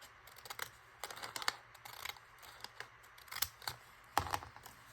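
Scissors cutting paper for a glue book collage, with a string of small crisp snips and clicks at an uneven pace, close but quiet, with no talk.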